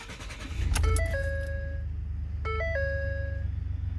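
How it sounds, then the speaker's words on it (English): A Ford F-150 pickup truck's engine cranks and settles into a steady low idle, while a two-note warning chime rings twice over it. "now let's go ahead and start the truck and see if our warning's gone"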